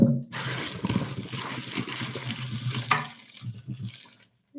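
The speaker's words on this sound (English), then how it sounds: "I'm going to just pour off most of the water here." Most of the pasta water is poured off from a pot into a sink, a steady rushing splash of water lasting several seconds that thins and trails away near the end.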